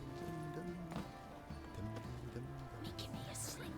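Horse hooves clip-clopping at a quick, steady rhythm for Roach in The Witcher 3, under continuous game music and someone talking over it.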